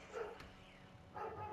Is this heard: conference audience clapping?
no